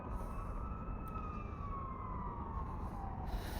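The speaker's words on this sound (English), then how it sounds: "Can you hear that fire engine?" A fire engine siren wails at a distance, its pitch sliding down as it passes under a constant low rumble.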